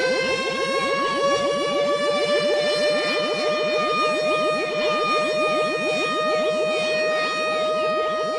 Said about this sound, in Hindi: ये उनका चेतावनी सायरन है